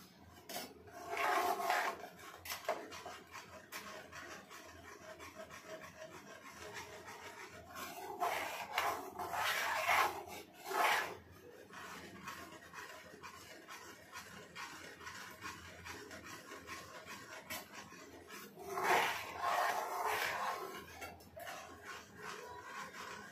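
A pan of milk being stirred steadily for basundi, with a spoon scraping and rubbing against the metal in three louder bursts separated by quieter stretches of low kitchen noise.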